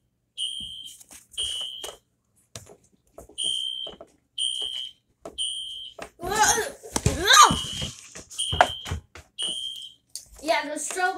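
A home smoke alarm sounds in repeated bursts of high electronic beeps as a fire sprinkler goes off, while voices talk and laugh between the bursts.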